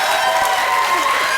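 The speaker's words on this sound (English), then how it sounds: "Give them a round of applause" A studio audience claps and cheers for a couple who just won a dating game show, a short, loud and steady burst of crowd noise.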